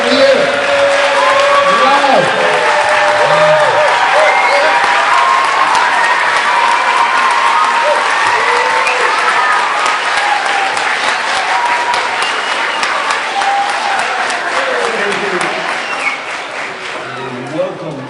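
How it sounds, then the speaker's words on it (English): A large school assembly crowd gives a standing ovation, applauding loudly and continuously, with scattered cheers and voices mixed in, the clapping tapering slightly toward the end. "give a nice standing ovation and clap really loud and hard for Principal Ramirez"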